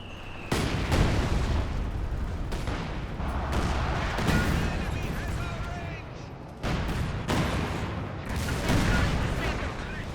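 An artillery barrage pounds an enemy HQ in Company of Heroes 2 during a 2v2 match, with repeated heavy booms and blasts rolling over roughly ten seconds, loud and close, as a voice talks over the fire.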